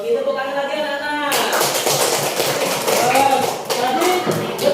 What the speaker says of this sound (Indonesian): Yogi, tepuk tangan lagi anak-anak